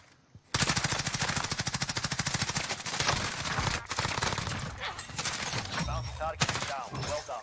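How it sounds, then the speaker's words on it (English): Rapid automatic gunfire from a shooter video game, a loud sustained burst of closely spaced shots followed by rougher, more irregular firing and clatter. "There's somebody shooting at me from over here."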